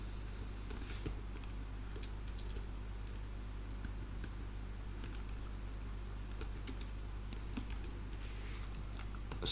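Faint, quick clicking of typing on a computer keyboard while entering data in MS Excel, scattered keystrokes over a steady low hum.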